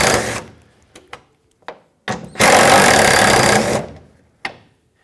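A power tool zips out 13mm bolts on a 2007-2014 Chevrolet Silverado tailgate, loud close bursts of high whirring, one short and one sustained run of about a second and a half, with small clicks and taps between.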